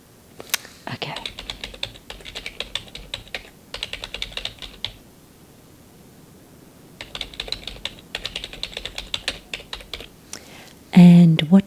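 Close-up clicks of computer keyboard typing come in quick bursts separated by quiet pauses, ending in a brief louder handling sound, in a soft-spoken law office roleplay setting.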